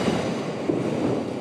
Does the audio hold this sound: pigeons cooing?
no